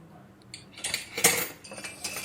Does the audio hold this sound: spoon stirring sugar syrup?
yes